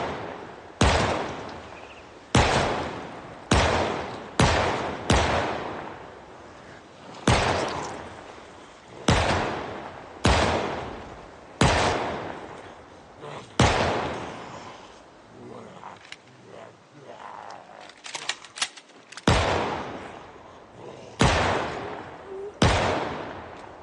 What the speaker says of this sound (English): we're outside of the stink zone and we can shoot them from here